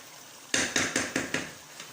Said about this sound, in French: je repositionne correctement ma marmite